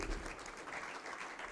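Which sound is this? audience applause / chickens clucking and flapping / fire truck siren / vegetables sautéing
audience applause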